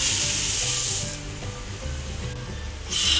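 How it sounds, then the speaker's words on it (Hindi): Puffed rice (kurmura) tipped into a pan and stirred, making a dry rustling, scraping hiss that stays steady and close for a few seconds, with a brighter crackle at the start and end. "अभी इसमें कुरमुरा ऐड करेंगे।"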